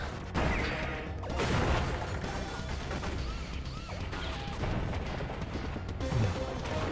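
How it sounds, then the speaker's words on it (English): Bomb explosions in the Iconoclasts video game go off in a rapid, busy barrage of crashes and thuds, loud and layered with game music throughout. "Now's the time to spam explosions."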